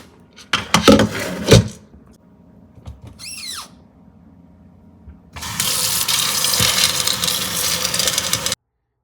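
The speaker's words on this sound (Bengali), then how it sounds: "এবার জল দিয়ে ভেজাতে হবে।" Water gushes steadily from a tap to soak chickpeas, a loud close rush lasting a few seconds after some clattering handling sounds, then stopping abruptly.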